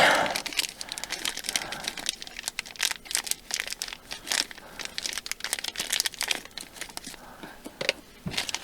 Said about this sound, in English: So we tear that open.